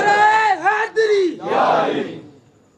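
A crowd at a naat gathering chants a religious slogan, a leader's drawn-out call followed by many voices answering together in a loud, sustained roar that fades at the end.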